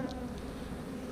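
Honey bees hum in a dense, continuous buzz around an open hive during an inspection, close and steady for a brief moment.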